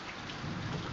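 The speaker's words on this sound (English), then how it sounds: "It's raining." Steady rain falls as a dense, even hiss with a low rumbling undertone, fairly soft and continuous with no voices.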